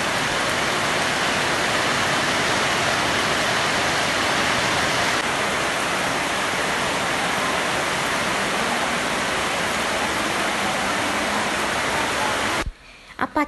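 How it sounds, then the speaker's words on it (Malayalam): Heavy rain pours steadily outside, a dense, loud, unbroken hiss lasting throughout, then cutting off abruptly near the end. "മഴ പുറത്ത് നല്ല പോലെ ഉണ്ടായിരുന്നു കേട്ടോ"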